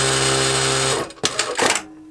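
Industrial sewing machine stitching fast, a steady high-pitched mechanical whir for about a second, then a few quick clattering bursts as it slows and stops, close and alone.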